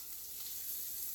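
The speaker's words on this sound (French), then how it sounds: "Ensuite, nous allons venir rajouter notre ail haché." Chopped garlic sizzles faintly in a pan, a soft, even hiss lasting about a second with no voices.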